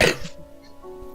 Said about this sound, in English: I'm sorry, I'm still trying to get over this cough as well.